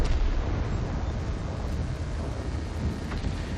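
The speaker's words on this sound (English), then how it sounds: "this tank does have a pretty powerful gun" An SU-100 tank destroyer's gun in World of Tanks, heard as a loud, sustained boom and rumble filling the whole short stretch.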